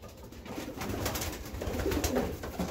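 Sixteen young racing pigeons being prepared for their first toss coo softly and repeatedly, the low calls overlapping with faint rustling close by and no talk.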